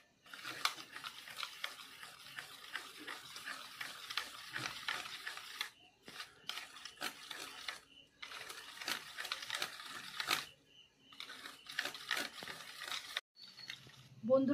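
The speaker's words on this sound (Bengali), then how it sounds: "ফেটিয়ে নেব।" Cake batter with a splash of added milk being beaten in a bowl, a steady rattling, whirring mix with a few short pauses, loud and close.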